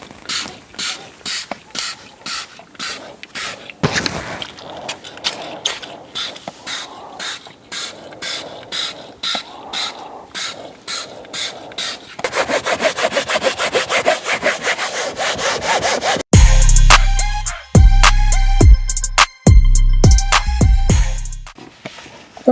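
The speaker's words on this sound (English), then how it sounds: "we're going to shake the Smart Fabric, and then I'm going to spray, thoroughly soaking the surface." Smart Fabric protectant bottle is shaken, then a trigger sprayer pumps rapid, rhythmic hissing bursts onto car seat fabric, close and loud. The spraying grows denser toward the end, with no talk.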